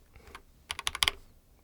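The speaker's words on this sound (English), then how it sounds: "I'll place it on and give the key a push into place" A keycap on a mechanical keyboard is pressed back onto its switch, giving a quick burst of several sharp, close plastic clicks in a quiet room.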